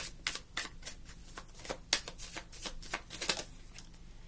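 Everyday Witch Oracle cards being shuffled by hand, a quick run of crisp riffling flicks and slaps repeating steadily at close range, with no voices.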